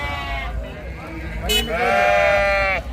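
Several sheep and lambs bleat loudly nearby at a sheep market in Gudur, in overlapping, drawn-out cries, with a voice talking among them.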